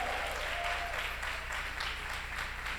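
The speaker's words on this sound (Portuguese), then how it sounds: "Aplauda mais forte para Jesus." A church congregation at a women's worship service claps steadily and loudly throughout, a dense, even roar of applause with no gaps.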